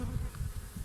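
Honeybees buzzing steadily at an open beehive in cold weather, a low close drone filling the short moment with no voices.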